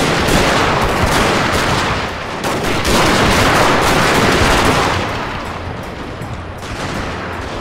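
Massed gatling guns firing in Total War: Shogun 2, a dense, continuous roar of rapid shots layered into a loud, unbroken barrage that eases slightly toward the end.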